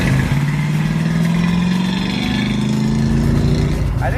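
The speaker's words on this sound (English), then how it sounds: "the engine's shaking because it's running too fat" A nitrous muscle truck engine drones loudly and continuously while driving at highway speed, with a rising tone, road rumble and vibration from the engine shaking as it runs rich.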